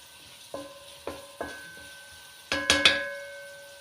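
A spoon clinks and scrapes against a pot while chicken curry with Knorrox stock cubes is stirred, several sharp metallic taps over a faint background sizzle, no voices.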